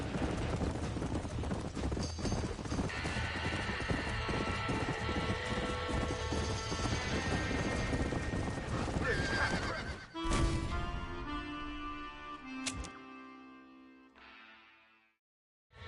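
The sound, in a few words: horses neighing in burning barn, Red Dead Redemption video game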